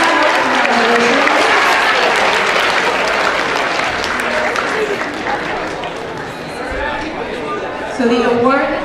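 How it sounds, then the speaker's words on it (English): Students and audience at a high school freshman awards ceremony give a loud, sustained round of applause that fills the room, with chatter and a few voices mixed in as it trails off. "give each other another round of applause for a successful transition to high school"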